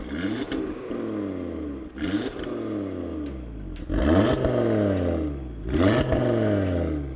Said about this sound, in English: it is a 5-cylinder, so yeah, it is that very unique, characteristic, like half V10 sound